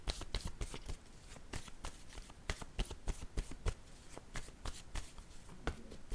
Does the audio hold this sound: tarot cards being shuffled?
yes